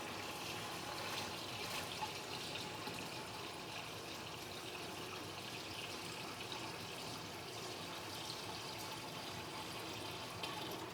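Water from a bucket is poured into an aquarium in a steady, unbroken splashing flow that stays low and even throughout, heard alone without talk.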